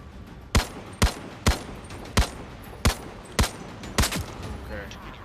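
Gunfire in the video game Zero Caliber: eight loud, sharp single shots spaced roughly half a second apart, each with a short tail, over a low background hum.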